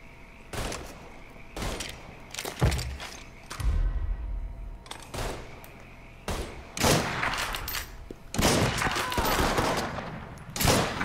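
Bursts of gunfire at the Bayou firing range in Mafia 3, loud clustered volleys of shots with short gaps between them, several rapid strings like automatic fire, with thuds and mechanical clicks in between.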